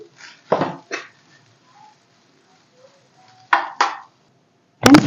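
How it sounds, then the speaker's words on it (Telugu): Curry leaf powder and oil being mixed into rice in a vessel: a few brief, sparse scraping and clinking strokes separated by near silence. "ఇప్పుడు బాగా మిక్స్ చేసేసుకోవాలండి మనం వేసిన పొడి ఆయిల్ అన్నీ చక్కగా మనకి రైస్లోకి కలిసేలా కలిపేసుకోవాలి"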